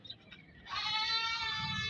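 A goat gives one loud, drawn-out bleat up close, a wavering nasal cry lasting over a second after a few soft rustles.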